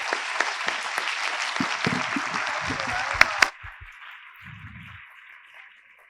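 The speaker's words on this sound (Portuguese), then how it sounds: "o aplauso que eles merecem" Conference audience applauding a panel, a dense wash of clapping for about three seconds that cuts off abruptly, followed by a fainter tail with a brief low voice beneath.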